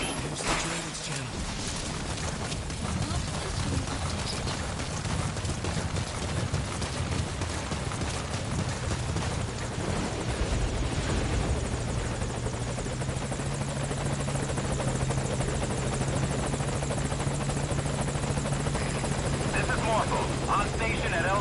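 A helicopter arriving at a landing zone in the video game Metal Gear Solid V, with a loud, steady rotor thump and turbine whine throughout, close and continuous, over game ambience and music.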